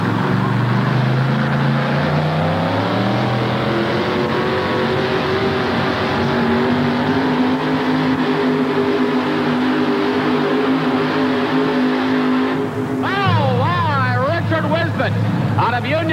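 A 1988 tractor pull in Memphis, Tennessee: a pulling tractor's engine roars steadily and loudly down the track, pitch climbing and wavering as it pulls, with an announcer talking over the racket throughout.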